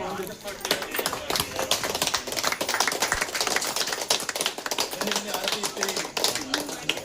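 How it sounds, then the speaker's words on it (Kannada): A group claps continuously in a dense, irregular patter of many hands, close and lively, while people talk and laugh over it. "ಚಪ್ಪಾಳೆ ಚಪ್ಪಾಳೆ ಸ್ವಲ್ಪ"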